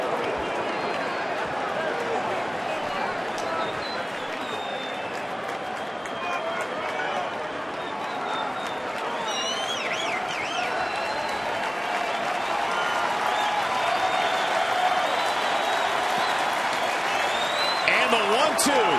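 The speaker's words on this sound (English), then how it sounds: "The crowd is on its feet for Doug Fister." A baseball stadium crowd in Detroit cheers and applauds steadily, a broad continuous roar with clapping that swells slightly toward the end, with a broadcaster's commentary running over it.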